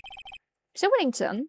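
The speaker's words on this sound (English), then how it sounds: "What is this with this stupid sonic ringtone?" A short, bright electronic ringtone from Ace Attorney 2 plays in two quick bursts of repeated beeps, clear and close, followed by a voice speaking.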